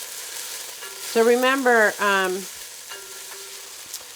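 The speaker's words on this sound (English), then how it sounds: "what we do here is we wait till the sizzle, till the onions get translucent." Diced onions fry in a pan with a steady background sizzle while a person speaks over it.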